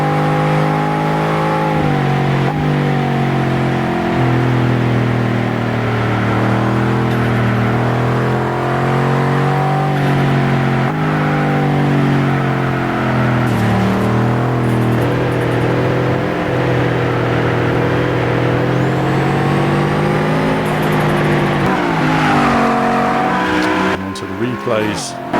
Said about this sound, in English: Hear the different engine note there as well.